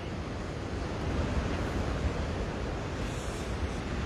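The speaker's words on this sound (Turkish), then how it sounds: "Hırçın dalgalar da Kilimli sahil yolunu bu şekilde dövüyor." Rough Black Sea waves pound the Kilimli coastal road in Zonguldak, a constant loud broadband roar of surf mixed with wind buffeting the microphone, with no distinct individual crashes.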